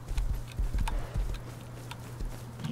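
Horse hooves clip-clop at a walking pace in the survival video game Rust, a run of distinct close hoofbeats over a low steady hum, with no talk.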